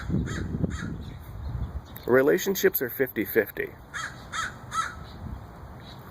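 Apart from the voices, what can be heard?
bird calling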